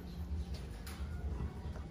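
Soft, low cooing of racing pigeons in coops pulses repeatedly beneath a steady background hum, faint and somewhat distant.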